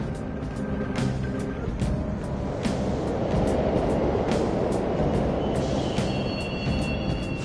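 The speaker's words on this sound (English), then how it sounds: "The trains are totally running! Of course they are. We're in the subway, you know." Subway trains run in the Persona 5 Royal video game, a continuous heavy rumbling roar with squealing tones and a few sharp clanks, steady and fairly loud without speech.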